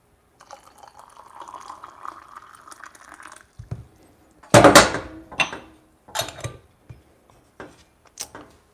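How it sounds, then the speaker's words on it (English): Water trickles and pours steadily from a kettle into an AeroPress coffee brewer for a few seconds, followed by a handful of sharp clunks and taps as the equipment is handled. "I'm just gonna top it up my water"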